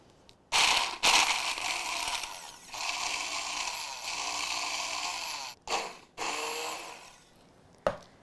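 A food processor grinds nuts with sugar and salt crystals into a fine meal, a loud steady whirring grind in long runs broken by brief pauses and short bursts, with no talking.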